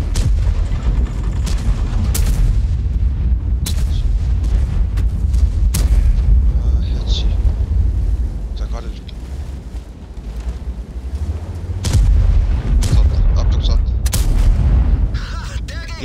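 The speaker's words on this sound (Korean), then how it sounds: "빵자주 개새끼 나만 쏜다 이거 지금." Heavy artillery booms and shell impacts from self-propelled guns in World of Tanks battle, several loud bursts over a constant low rumble of game engine and combat noise.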